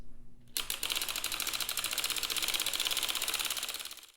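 A sock knitting machine being cranked, a rapid, even clatter of needles ticking in a fast steady rhythm after a brief quiet start, close and fairly loud.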